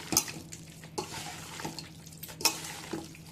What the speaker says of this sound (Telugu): ఇదంతా మిక్స్ అయినాక బాగా రొయ్యలు పట్టించేయాలండి